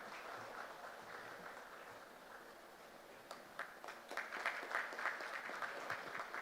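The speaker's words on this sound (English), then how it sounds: "Can we have a round of applause for both of them?" Faint, distant audience applause at a university event in a large hall, starting softly and swelling into scattered claps.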